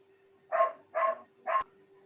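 A dog gives three quick, evenly spaced barks, close and fairly loud, followed by a faint click, over a quiet steady hum.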